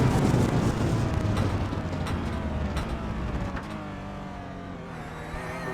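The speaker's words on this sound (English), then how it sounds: "Grabbing the downshifts in the Porsche." A Porsche race car is recorded onboard during a Porsche Cup race at Circuit of the Americas. Its engine drones steadily while it downshifts, with several brief blips, and the sound grows gradually quieter through the clip.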